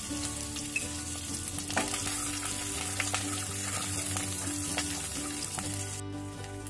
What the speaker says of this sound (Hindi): इसे डालकर बहुत ही धीमी आंच पर चलाएंगे ताकि मसाला जले नहीं